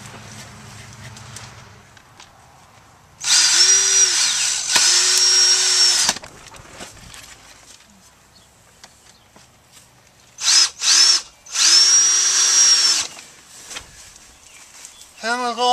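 A power drill drives screws to fasten screen onto a hoop house wall in several loud whirring bursts that rise and fall in pitch, separated by quieter stretches, heard up close.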